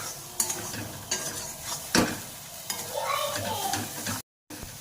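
Beaten eggs are stirred into spices in a hot pan for egg bhujia, a soft scraping and stirring with a steady sizzle beneath, spoon strokes knocking at intervals, no talk.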